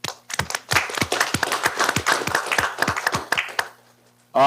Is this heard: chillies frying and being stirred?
no